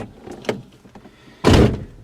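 A car door opens with a soft click and a faint rattle, then a louder, broad thump near the end, heard close up with no talking.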